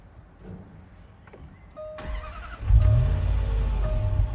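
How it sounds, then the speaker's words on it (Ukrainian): A 2012 Land Rover Range Rover Sport engine cranks briefly, catches, and settles into a steady low idle, preceded by a few clicks and a short electronic chime. "Як ви бачите, двигун запускається з півоберта"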